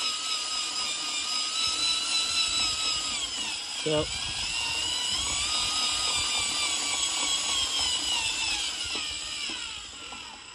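A homemade power-tool winch for building a vertical wind turbine tower runs with a steady whining, high-pitched motor drone, a brief knock near the middle and a short spoken word.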